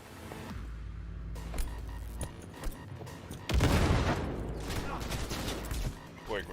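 Gunfire and explosions ring out in Cyberpunk 2077, a loud burst of shots and a big boom around the midpoint, with someone talking over the action.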